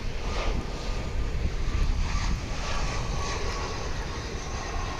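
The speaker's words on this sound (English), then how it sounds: "Here is a flight coming in from Aguascalientes in Mexico." An airliner roars steadily as it comes in to land at Dallas/Fort Worth International Airport, a loud sustained broadband jet-engine rush that holds at an even level throughout, with no voices.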